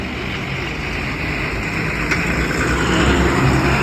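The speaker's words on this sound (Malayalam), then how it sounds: "ആ വണ്ടി ഇപ്പോൾ പോയിട്ടോ, ലാസ്റ്റ് ആ വാഹനം കടന്നു പോണതാ" Road vehicles pass along a service road beside the NH66 highway, a steady, loud broadband traffic rumble that swells slightly toward the end, with no voices.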